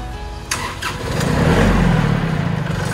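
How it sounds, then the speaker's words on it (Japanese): A Kubota FT260-NE high-clearance tractor, set up for growing leeks and parked on asphalt, cranks with a few short starter bursts, then its engine catches and settles into a loud, close, rumbling idle. "それではエンジンを始動します。"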